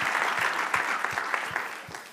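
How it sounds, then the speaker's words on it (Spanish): A church congregation applauds during a Spanish-language sermon on Jehovah Sabaoth, a steady wash of many clapping hands filling the room for a couple of seconds at moderate level. "Denle otro aplauso si puede"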